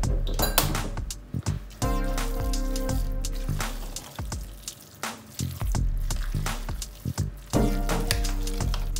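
A pot of Ghana jollof rice with soy sauce is stirred, making repeated clinks and scrapes of a utensil against the metal pot in an irregular rhythm, loud and close.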